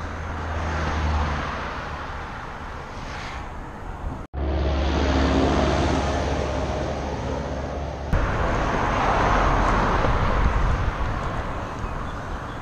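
Steady roar of traffic on a cantonal road in the Rhône valley near Monthey and Martigny, heard while riding a longboard against the flow on a cycle lane. Continuous loud road and wind noise with no talk.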